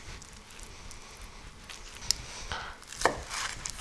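A knife cuts a still-warm fried sushi galette into quarters, soft muffled chops against a board with one sharper thud near the end, close and unaccompanied by speech.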